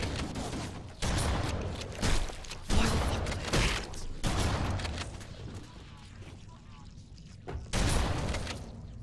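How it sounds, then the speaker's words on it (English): Repeated shotgun blasts in the video game Halo: The Master Chief Collection, several loud booming shots in quick succession amid chaotic combat noise. "I love the shotgun."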